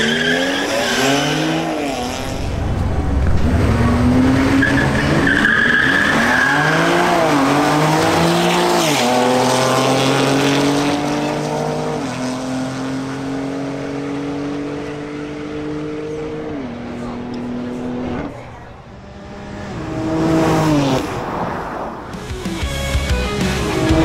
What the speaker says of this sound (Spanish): Iniciamos con un duelo entre Álvaro Estefanel en su BMW X3 M Competition versus Andrés Sepúlveda en su BMW M240i.